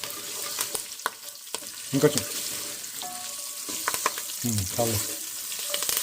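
Curry leaves sizzle and fry in hot oil as a spoon stirs them through, with bursts of crackling and a few scraping stirs; one brief spoken word.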